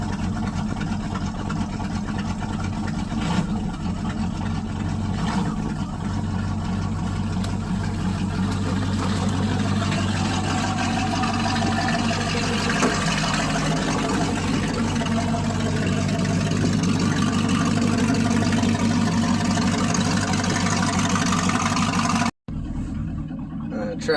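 A Ford 351 Windsor V8 swapped into a 2002 Ranger runs at a steady, rumbling idle for about twenty seconds before it briefly cuts out near the end, with faint voices underneath.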